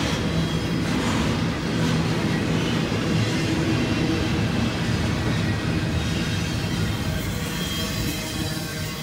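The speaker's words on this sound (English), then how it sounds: "The intermodal stack train!" A BNSF intermodal stack freight train rumbles steadily past in downtown Flagstaff, a continuous heavy roar of rolling cars and wheels with a faint clatter, loud and close throughout.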